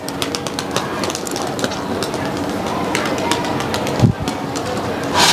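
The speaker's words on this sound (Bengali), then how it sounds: "এই যে দুটা কবুতার দেখতেছেন এটা হলো নর এটা হলো মাদি" A male and female pair of native pigeons coo on a rooftop loft, with repeated low throaty coos close by and someone talking over them.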